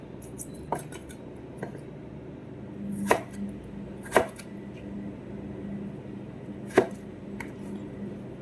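A knife slicing raw potatoes by hand, heard as a few sharp, close cutting knocks spaced irregularly over a quiet background.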